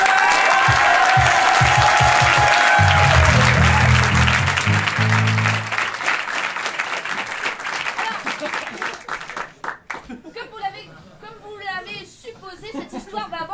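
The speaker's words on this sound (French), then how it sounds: "je pense qu'on peut leur faire un tonnerre d'applaudissements" Loud audience applause and cheering at an improv theatre festival in Paris, a dense clapping wash mixed with crowd chatter and a few musical notes, fading after several seconds as voices take over.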